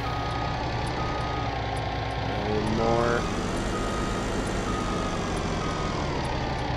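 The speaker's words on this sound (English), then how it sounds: "Good thing I got the backup beep." Truck backing up in Farming Simulator 19, steady engine rumble with a brief stepped series of reversing beeps near the middle, someone talking briefly over it.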